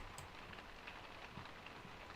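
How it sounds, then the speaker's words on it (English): Hail pattering steadily in The Sims 2 life-simulation game, a dense, even hiss of small impacts across the whole moment with no voices. "Oh, this is hail."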